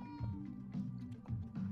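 A cat in the video game Life is Strange: True Colors meows several times in a row, each call short and nasal, clear and close over quiet game ambience.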